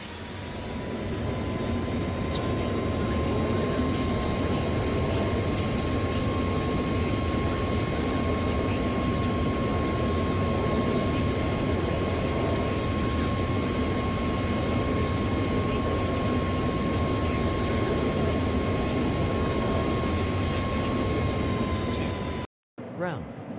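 A China Southern Airlines jet airliner lands on runway 29 right at Sanya in Real Flight Simulator, giving a steady, loud engine roar with a thin high whine throughout the rollout before it cuts off abruptly near the end.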